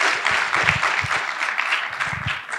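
Audience applause at a film festival conversation event, a steady dense wash of clapping hands sustained throughout, moderately loud and unbroken.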